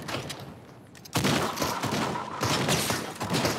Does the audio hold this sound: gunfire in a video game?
yes